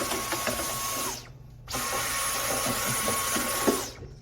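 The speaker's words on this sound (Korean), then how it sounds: "청소기로 먼지를 다 제거해 줍니다." A vacuum cleaner runs with a steady broadband hiss while removing dust from the rollers of a screen golf tee-up machine, cutting out briefly for a moment before roaring back on, with faint clicks and scrapes from the work.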